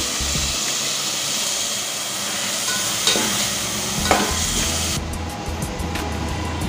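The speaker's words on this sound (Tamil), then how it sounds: "தக்காளி நல்லா வதங்கிடுச்சு." Tomatoes sauté in a pan with shallots, crushed garlic and green chilies for a fish curry, giving a loud steady sizzle and frying hiss with occasional stirring scrapes, and no voices.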